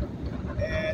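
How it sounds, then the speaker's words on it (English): Strong wind buffets a car driving through a dust storm in central Kansas, a dense low rumble roaring steadily for under a second. "it is windy out here"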